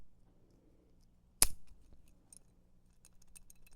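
A stainless steel bolt action pen with a refill cut slightly too short gives one sharp metallic click-rattle, close and alone, followed by a few faint light ticks.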